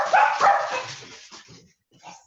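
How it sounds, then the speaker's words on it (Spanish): Several excited pet dogs bark indoors in a loud close burst, a few quick yips following before a brief pause and one last bark. "Disculpen mis perritos que están entusiasmados."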